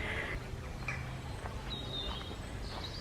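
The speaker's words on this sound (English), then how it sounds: "You can just hear all the birds" Outdoor ambience with several birds calling and chirping at a distance, faint thin tweets scattered over a steady low background hum.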